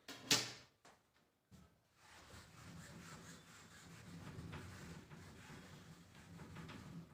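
Writing is rubbed off a classroom board with a duster, a soft continuous scrubbing after a few sharp knocks at the start, faint and close, with no talk.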